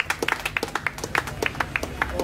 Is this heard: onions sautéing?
no